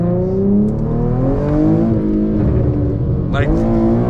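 Deep exhaust rumble from a tuned Infiniti G37 engine fills the stretch, with a brief crackly pop near the end, while someone talks over it.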